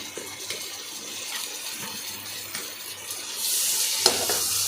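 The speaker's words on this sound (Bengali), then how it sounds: "টমেটো দিয়ে ভালো করে ভাজলাম" Tomatoes and onions fry in a pan with a steady close sizzle, stirring scrapes now and then, and a brighter hiss swelling near the end; no voices.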